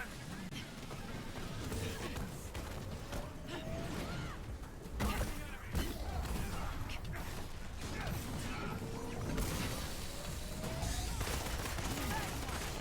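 Heavy weapon in the Marvel's Avengers game firing in dense bursts, mechanical clanks and rattling gunfire over a busy, layered combat din.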